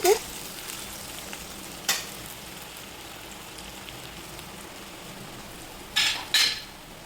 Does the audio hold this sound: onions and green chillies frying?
yes